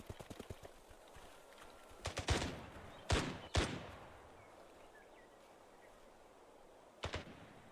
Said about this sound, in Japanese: 下水処理場から銃声が聞こえるのだ。